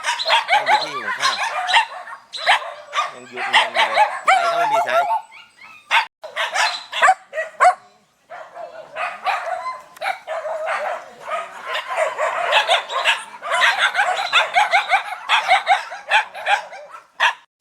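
Many dogs at an elderly couple's home shelter of more than 200 animals bark, yip and whimper in a dense, overlapping chorus, some near and some farther off, with people talking intermittently beneath the noise.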